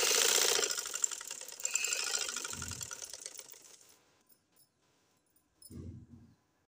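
A sewing machine stitches the sleeve seam of a shirt in a short burst of rapid mechanical whirring that fades out, followed by quiet and a brief second run near the end.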